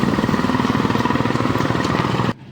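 A KTM Duke 390 motorcycle engine idles close by, a loud, steady pulsing chug with rapid even firing beats that cuts off abruptly near the end.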